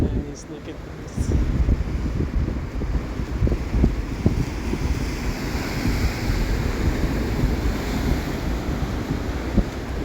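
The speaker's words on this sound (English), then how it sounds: "Long walks on the beach." Ocean surf washing onto the beach along the Mazatlán Malecón seaside promenade, a steady broad rushing roar with wind buffeting the microphone, continuous and fairly loud throughout.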